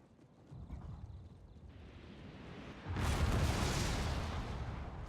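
Cannon artillery fire in the samurai strategy game Total War: Shogun 2, a dull low rumble building and then jumping into a loud, sustained roar of massed shots and impacts that carries on to the end.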